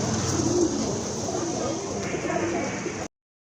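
Pigeons cooing in a large pigeon collection, with soft, repeated low coos close by over a steady background, ending abruptly in silence.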